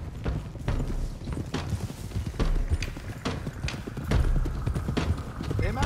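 Several horses clip-clop off together at a run in Red Dead Redemption 2, rapid overlapping hoofbeats close by with an occasional whinny, under a rumbling game soundscape.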